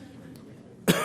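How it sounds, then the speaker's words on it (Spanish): A single sharp cough from the president receiving an honorary Doctor Honoris Causa for Peace, who is suffering from a cough, at a formal ceremony; loud and abrupt near the end after a stretch of quiet room tone, with no talk around it. "Me van a disculpar un poco la tos"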